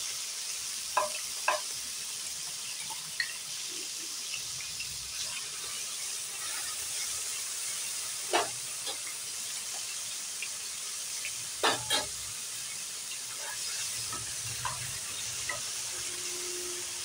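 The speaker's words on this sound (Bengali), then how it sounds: "এবার চিংড়ি মাছগুলো ভেজে নেব।" Prawns fry in hot oil in a wok, a constant bright sizzle with occasional sharp pops and utensil clicks, close and without talk.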